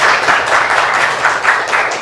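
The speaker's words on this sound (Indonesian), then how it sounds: "Ya, tepuk tangan untuk saya dulu dong." Schoolchildren in a classroom clap their hands together in a short, loud burst of quick rhythmic claps, close to the listener and with no talking over it.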